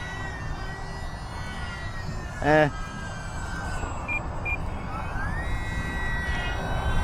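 An E-flite UMX Timber RC plane's electric motor held at full throttle gives a steady, close, high-pitched whine. It sustains throughout with a brief louder burst partway through, and no talking is heard.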